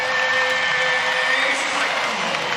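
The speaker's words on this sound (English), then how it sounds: "Crowd loves it." Crowd at a women's college volleyball regional final, Oregon vs Louisville, applauding and cheering after a point, a steady broad roar with no distinct claps standing out, moderately loud and continuous for the whole stretch.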